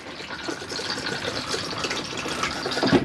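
A cassette toilet in an Adria Coral Plus 670 SLT motorhome flushes with a steady rush of running water from the pump, close and continuous, with a slight gurgling swell near the end.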